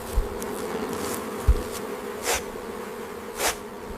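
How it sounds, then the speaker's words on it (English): Bees fly to and from a nest on the African savannah, producing a continuous low insect buzz with individual bees swelling louder as they pass close by, alongside a few soft thumps. "A few bees could be searching for flowers. A constant stream reveals a nest."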